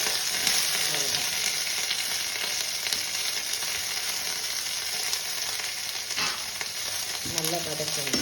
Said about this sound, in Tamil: நல்லா வதக்கணும், ரொம்ப வதக்க வேணும்.